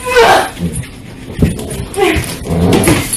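A dog whimpers and yips in a few short bursts close by, with people talking over and between the cries.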